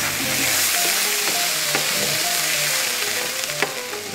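Sofrito and minced garlic sizzle steadily in a hot pan, a loud, continuous broadband hiss with occasional scraping clicks and knocks as the mixture is stirred, with no talking over it.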